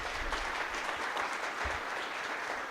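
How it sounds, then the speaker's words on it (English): Sustained audience applause for conference panelists at an opioid crisis community response event, a dense steady wash of many hands clapping throughout with no talk. "please let's give a big round of applause for our panelists"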